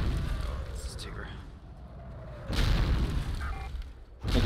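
Mortar rounds in the tactical shooter Joint Operations: Typhoon Rising land as heavy, low booms, one rumbling through the opening and another hitting hard midway, with a sharper burst at the close, amid low player chatter.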